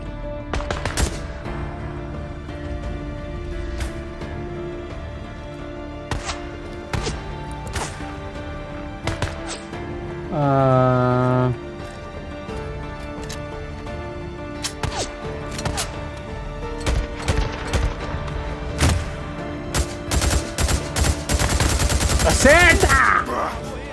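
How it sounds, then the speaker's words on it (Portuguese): Gunfire in the video game Days Gone: scattered single shots and bursts ring out across the scene, with a steady mechanical hum beneath and a heavier, dense volley of shots near the end. "Quem é que tá atirando, caraca?"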